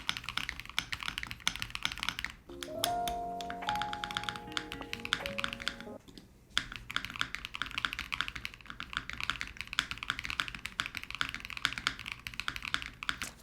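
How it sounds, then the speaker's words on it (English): Steady typing on a Thera V2 mechanical keyboard, a dense run of close clacky keystrokes continuing almost throughout, briefly interrupted by a short tonal sound. "Honestly though, this doesn't feel too bad to type on."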